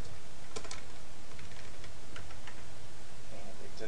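A computer keyboard is typed on in scattered clicking keystrokes over steady background noise, close and moderately loud, with brief voices faintly underneath.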